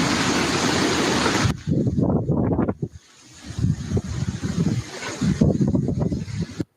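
Waves lap against a seawall in strong gusty wind during a flood watch, with heavy roaring wind noise buffeting the microphone and a brief lull in the middle before the gusts return.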